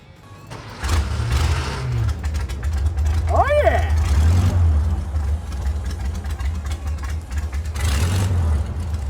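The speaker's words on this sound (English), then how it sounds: "VW engine? Yep." A VW engine in a stick-shift car idles with a low steady rumble and briefly revs, close and fairly loud, while someone speaks over it.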